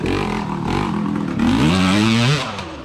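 A KTM enduro dirt bike engine revs up with throttle, a close, loud buzzing roar that climbs in pitch over a couple of seconds before easing off.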